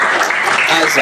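Audience applause at a teacher training session, steady dense clapping filling the whole moment, loud and close with a voice speaking briefly over it.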